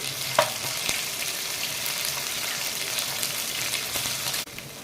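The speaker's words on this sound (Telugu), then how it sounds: "ఇప్పుడు అల్లం వెల్లుల్లి పేస్ట్ అండి, ఇది బాగా వేపుకోవాలి." Ginger garlic paste frying with curry leaves and green chillies in a pan, a continuous close sizzle with occasional stirring clicks, fading slightly at the end.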